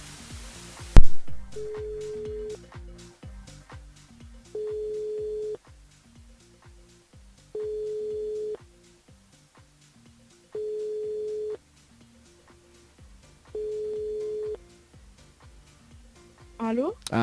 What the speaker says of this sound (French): On appelle Émilie sur le standard